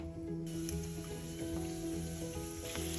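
Hot oil sizzling and crackling in a pan while frying snacks for fuchka, a steady close hiss with scattered sharp pops throughout.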